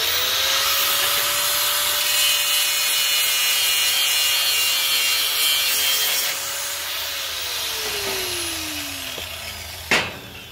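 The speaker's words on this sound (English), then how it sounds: "Do some more grinding. Get the rest of this little bit of rust off." Steady abrasive grinding of rust from metal stock for a batarang and throwing knife, a sustained whining tool tone that dips in pitch near the end before a sharp knock, loud and close with no talk.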